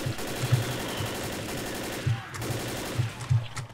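Left 4 Dead gunfire rattles in quick automatic bursts under a constant low game rumble, the shots pulsing steadily at close range with louder clusters near the end.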